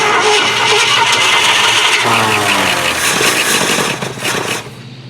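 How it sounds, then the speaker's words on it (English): A 1970 Ford LTD Country Squire station wagon, long parked in a field, runs loud and close with a rough, steady engine roar that dips and wavers near the end as it runs short of fuel. "Basically, it's just running till it runs out of gas."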